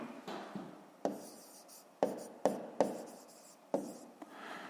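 Pen or pencil scratching on paper while working a fifth-grade math exercise, a series of short strokes with several sharp taps, close and fairly quiet, with no speech.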